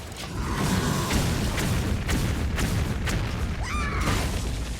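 Bombs explode in the video game Hearthstone as a series of deep, booming thuds over a dense, continuous game soundscape, ending with a brief mechanical whoosh.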